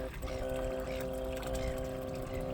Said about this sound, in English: That little pump pumps water out of the river